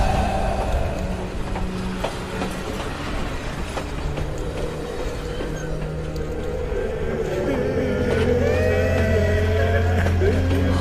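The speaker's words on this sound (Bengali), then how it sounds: "শোনা গেল ট্রেনের হর্ন।" A cartoon train approaches in the dark and sounds its horn: a steady rumbling roll with sustained tonal horn notes rising toward the end, loud and continuous.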